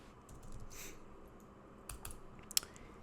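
Quiet, close typing on a computer keyboard while coding a Python Pygame program, with a few scattered soft key clicks and one sharper tap near the end.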